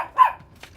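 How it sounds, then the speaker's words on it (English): A single short, sharp bark from a small dog, close by, followed by a faint softer sound. "She's getting much better with the barking"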